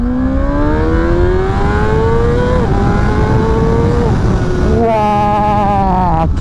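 A 2024 Honda CBR 600 RR inline-four revs hard toward its 15,000 rpm redline, a loud, close, rising howl that dips and climbs again through several pulls, ending in a sharper high scream.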